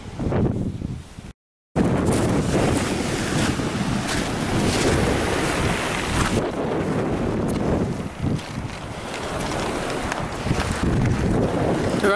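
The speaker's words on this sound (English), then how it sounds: "I hope you can hear me over the waves." Sea waves breaking on the shingle shore at Dungeness, Kent, a loud continuous roar of surf under heavy wind buffeting the microphone, with a brief dropout early on.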